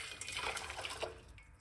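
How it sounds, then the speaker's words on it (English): Hot water poured from a large cup into a cooking pot: a steady splashing pour lasting under two seconds, close and fairly quiet, with no talking. "we got 1 large cup of hot water right here, as you guys can see. All right, we're gonna pour that in the pot."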